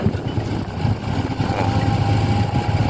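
A Kobelco SK200 excavator with an Isuzu 6G engine runs at a steady idle, a close, continuous low diesel rumble with a faint whine on top and no speech.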